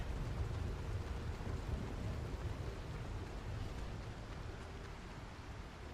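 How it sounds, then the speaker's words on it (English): Steady rain with a low thunder-like rumble in the Star Citizen video game, heard as a dark outdoor scene. It makes a constant broadband wash with no talk over it. "Raining."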